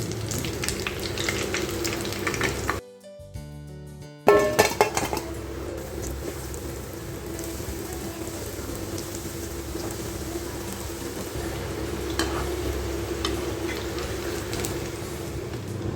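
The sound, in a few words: paneer popcorn frying in a pan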